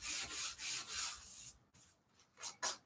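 Sandpaper scuffs a cereal box journal cover in repeated close, rhythmic rasping strokes, several even swipes followed by a few shorter ones, with no voices.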